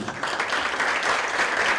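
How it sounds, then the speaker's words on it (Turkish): Municipal staff clap for themselves at an event marking easier communication with the metropolitan municipality, a short burst of dense, steady applause from a nearby group with no talk. "Bence kendinizi bir alkışlayın yani."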